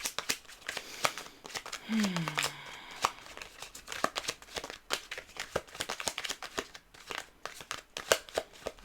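Close, irregular shuffling of tarot cards, soft clacks and papery slides in uneven bursts, with a brief bit of voice early on.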